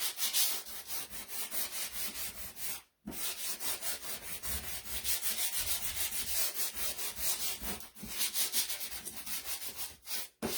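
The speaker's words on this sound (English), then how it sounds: "I'm going to sand it a little bit, because I like it a little distressed" Pink-painted scalloped wooden piece being sanded by hand to distress the paint, a steady rhythmic scraping of strokes close up, with two brief pauses, no voices.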